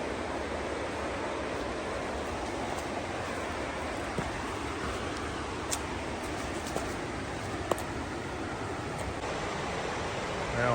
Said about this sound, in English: let's go down here and check this waterfall out